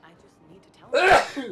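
A single sharp, loud sneeze bursts out close up right after a person speaks quietly, during a Mass Effect livestream.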